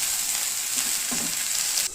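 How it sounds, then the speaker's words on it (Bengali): Carrots, green chillies, capsicum, chopped cabbage and corn fry together in a pan, giving a bright, continuous close sizzle with a few soft stirring clicks. It cuts off abruptly just before the end. "তারপরে এতে দিয়ে দেবো এক এক করে গাজর, কাঁচা লঙ্কা আর ক্যাপসিকাম, একটু বাঁধাকপি কাটা, একটু কর্ন, এগুলোকে ভালো করে ভাজা ভাজা করে নেব।"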